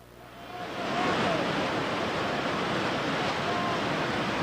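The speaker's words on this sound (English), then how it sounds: "welcome down to Lost Paddle Rapid" Whitewater roars at Lost Paddle Rapid, a long Class 5 stretch of the Gauley River, as a loud, dense, unbroken rush of water that swells over the first second and then holds steady with no voices.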